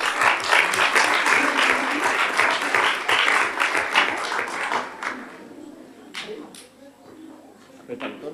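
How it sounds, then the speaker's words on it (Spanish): Applause from an audience at a children's council session in a civic chamber, a dense burst of clapping that fills the first five seconds and then thins to a few scattered claps. "Un aplauso, venga, para los chicos."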